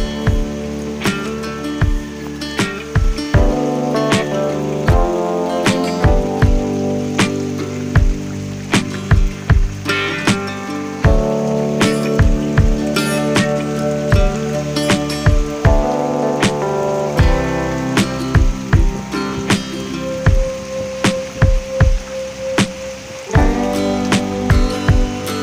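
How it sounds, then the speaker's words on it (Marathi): Heavy rain falling hard in a village, a continuous loud wash of drumming with sharp, irregular drip and splash impacts throughout and no speech. "आपण एवढा पाऊस सुरू आहे जोरात"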